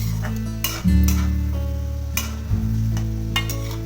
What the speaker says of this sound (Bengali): বাদ বাকি নিমকিগুলো ঠিক একই প্রসেসে ভেজে নিচ্ছি খুব ভালো করে লো ফ্লেমে ভাজবে